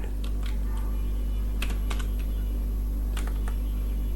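Keystrokes on a computer keyboard while HTML code is entered for a web page in Windows Notepad, sparse clicks in small clusters over a steady low hum, close by with no voice.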